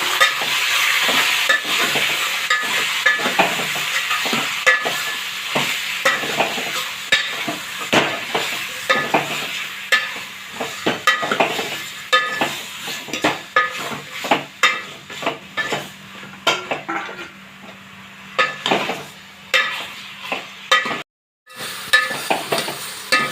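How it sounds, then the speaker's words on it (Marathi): Chicken fries in hot oil in a pan with a steady sizzle, while a spoon scrapes and knocks against the pan in repeated stirring strokes, close and fairly loud, easing to intermittent scrapes and clinks later. "बघा हे चिकन आपलं शिजतंय"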